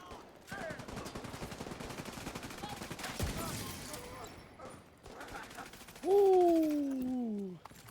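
Gunfire in the video game The Division 2, a continuous rattle of rapid shots under game sounds that stops midway, followed by a loud voice.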